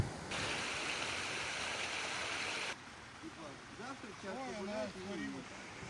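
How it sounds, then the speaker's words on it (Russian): A multi-tiered waterfall in Lampang province, Thailand, with a cascade about 150 metres high, gives a steady rushing roar. The roar then softens under a person speaking. "располагается один из самых красивых водопадов региона. Многослойный каскад высотой около 150 метров"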